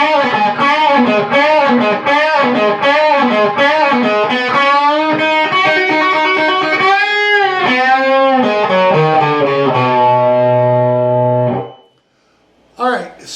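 Distorted electric guitar plays the closing two measures of a solo, a fast run of bent, sustained notes ending on a held chord that cuts off, then a brief final stab.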